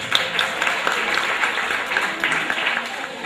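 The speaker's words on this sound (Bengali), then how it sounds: "আমরা তাকে হাততালি দিয়ে অভিনন্দন জানাই।" An auditorium audience at an Eid reunion gathering applauds, a dense, steady burst of many hands clapping together that carries on for a few seconds at a fairly close, loud level.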